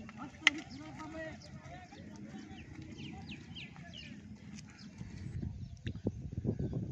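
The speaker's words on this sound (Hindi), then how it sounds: "गायें आ रही हैं जी।" Cows walk past on a rain-soaked village road, their hooves giving soft irregular steps that grow louder and closer toward the end, with birds chirping in the background.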